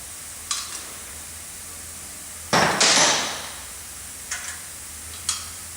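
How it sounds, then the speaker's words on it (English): A 3/8 wrench works nuts off the top of a King pump, with a few sharp metallic clinks and one louder scraping, rattling burst in the middle, all close by and with no talk. "Remove all the nuts all the way around the top part here. There's 3/8 wrench. Take all these nuts off."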